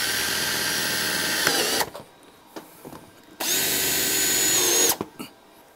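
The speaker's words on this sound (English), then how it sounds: "I just want to put 2 screws on each side of the overlaps" A power drill drives screws through the overlapping sections of Solatube daylighting tubing, with two long, loud, close whirring runs separated by a brief pause and small handling noises.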